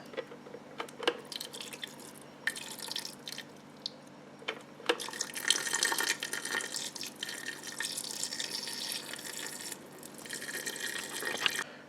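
Gravy pours from a squeeze-handle grease separator after a Mississippi pot roast, a wet trickling and dripping stream with bursts of splashing. It is close and runs for several seconds without voices.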